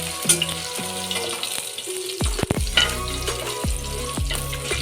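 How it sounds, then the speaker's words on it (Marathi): Garlic fries in a pan until reddish brown for a quick spring-onion vegetable dish. It gives a steady close sizzle, broken by several sharp metallic clanks and scrapes as it is stirred, with no talking. "लसूण आपल्याला लालसर होईपर्यंत चांगले शेकून द्यायचे आहे."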